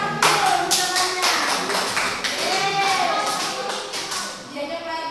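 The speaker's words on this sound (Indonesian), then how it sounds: "Oke, tepuk tangan dulu semuanya." A class of pupils claps their hands together in a busy run of taps, with children's voices chattering over and around the clapping.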